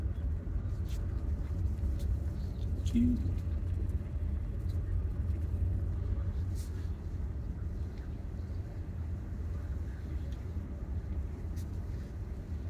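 Tesla Model Y trundling slowly along a narrow coastal path in Scotland, a low steady road and tyre rumble heard from inside, faint and even, with occasional small knocks and no talking.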